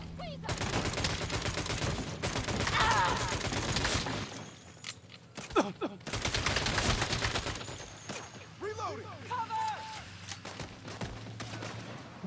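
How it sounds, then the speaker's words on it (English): Dense video game gunfire from Saints Row rattles in loud bursts and rapid volleys, broken by short quieter gaps and scattered mechanical clicks. "Stop shooting at me."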